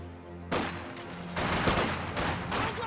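Squad rifle and machine-gun fire in a strategy video game battle, a dense, continuous crackle of overlapping shots that swells louder after the first half second and keeps rolling without a break.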